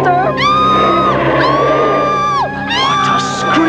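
Screaming from a fake-looking monster in a movie shown within the 1992 animated cartoon Monster In My Pocket: loud, sustained rising and falling wails in several close bursts, filling the whole stretch.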